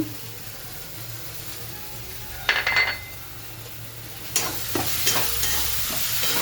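A spoon clinks and scrapes in a pan while spices, turmeric, salt and cumin sizzle as they are stirred, with a few sharp metallic taps and quieter frying in between.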